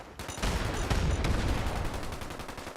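Explosions and gunfire in the video game Fallout 76, a loud, dense barrage of overlapping blasts and rapid shots that runs continuously through the whole moment with no voices.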